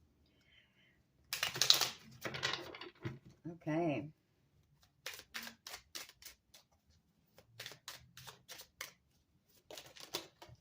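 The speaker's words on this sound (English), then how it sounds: "I'm going to do one more shuffle." Tarot cards riffle and flutter in quick bursts, followed by a string of soft taps and clicks as they are handled, with a short spoken word in between.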